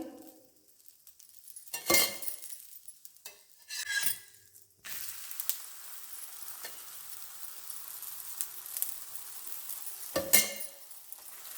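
A fenugreek chapati fries in oil on a pan with a soft, steady sizzle, broken by a few louder scraping bursts of stirring or turning. No one speaks.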